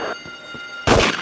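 A single loud, sharp gunshot bursts out near the end of a Nintendo 64 video game sequence, preceded by quieter game sounds.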